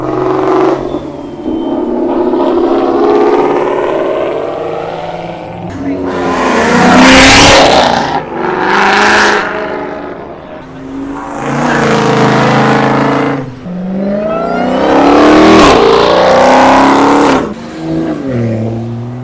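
Cars rev hard and pull away at a Cars & Coffee show in South Florida, engines rising in several loud bursts with whooshing passes, interspersed with crowd chatter and voices.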